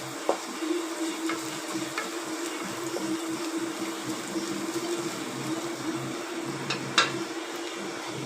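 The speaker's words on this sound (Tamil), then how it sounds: "தேங்காயும் போட்டு நல்லா வதக்கி விடணும்" Grated coconut fries quietly in a pan, giving a soft continuous sizzle with a few faint scrapes of stirring. It sounds close but low, and no one talks.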